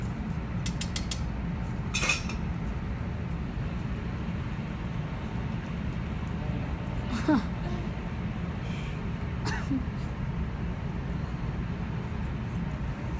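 Macaroni and cheese is stirred in a pot, giving a steady, soft, thick churning with a few faint scrapes and clicks of the utensil against the pot.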